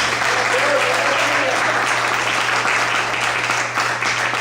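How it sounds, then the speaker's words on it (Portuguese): A church audience at a couples' lecture breaks into loud, sustained applause, a dense even wash of clapping with a low steady hum underneath. "Vamos aplaudir o Senhor?"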